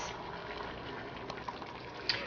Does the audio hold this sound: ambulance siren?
no